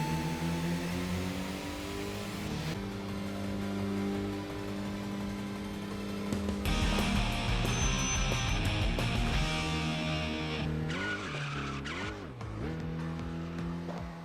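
Racing video game engine sound from Tokyo Xtreme Racer during a duel against a Suzuki Swift: a continuous high revving engine that climbs and drops through gear changes, with tire squeal, steady and fairly loud with no talk.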